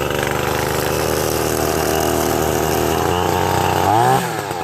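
A Husqvarna 525 gas string trimmer engine runs with a loud, buzzing two-stroke drone close by, holding steady before revving sharply upward near the end and then dropping back.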